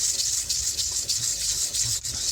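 A metal jewelry bezel is rubbed smooth in figure-eight strokes, making a steady, rhythmic hissing scrape that stays close and continuous, with no talking.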